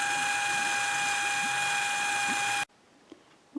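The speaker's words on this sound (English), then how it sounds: "Larry's still pumping water off the top of the pool before it rains" A pump drawing water off the top of a pool cover runs with a steady mechanical whine and rattling drone, loud and constant until it cuts off abruptly, leaving faint background noise.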